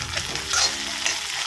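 Food fries in a pan and is stirred, giving a close, continuous sizzle with scraping and clinking of the spatula.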